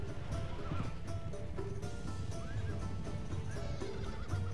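A horse in the Medieval 2 game whinnies a few times amid battle clamour and hoofbeats, moderately loud against a busy background.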